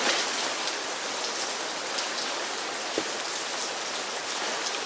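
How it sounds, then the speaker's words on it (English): Steady rain patters on a rain poncho outdoors on a wet day, a dense, even hiss of drops that continues without pause, with a few slightly sharper taps standing out. "I thought it was being such a rainy day"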